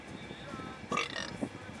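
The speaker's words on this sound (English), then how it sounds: "Wait, give us a burp." A person burps on command, one loud belch rising out of background chatter near the middle, with voices talking around it.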